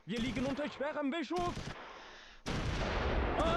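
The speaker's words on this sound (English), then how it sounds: "There's our mortars. Good hit." A voice talks briefly, then heavy mortar blasts rumble in the Close Combat III tactical war game as shells strike infantry in the open, a rough burst of explosive noise that fades and then returns loudly.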